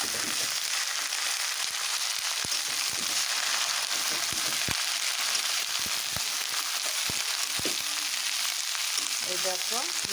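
Tomato spice mix stirred through cabbage in a frying pan, a dense constant hiss of frying with scattered spatula knocks and scrapes, close and steady with no talk.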